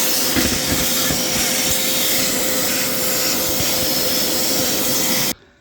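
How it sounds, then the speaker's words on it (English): A vacuum cleaner roars steadily and close up while cleaning the air box of a 2005 Honda CBR 600RR motorcycle, a constant whine and rush that cuts off abruptly at the end. "So I guess I'll get the vacuum out and see if I can clean that up a little better."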